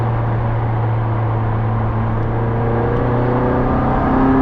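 Inside a McLaren 600LT on the road, a steady, loud engine drone holds throughout with a low sustained hum, rising slightly toward the end.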